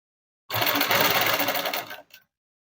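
An electric sewing machine stitches a child's dress, a single close, fast mechanical whirring burst of under two seconds, starting and stopping abruptly in silence.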